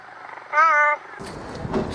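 A cat gives a single short meow, clear and near, followed by a person talking quietly.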